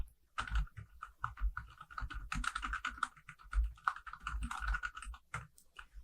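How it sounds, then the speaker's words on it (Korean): Rapid typing on a computer keyboard during an Excel exercise, quick irregular clicks of keys in close succession, faint and close-up with no talk. "1작업 넘어와서 이제 타이핑을 하겠습니다."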